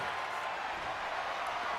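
A wrestling arena crowd roars and cheers in the video game WWE 2K24, a dense continuous wash of crowd noise at steady loudness, filling the whole moment.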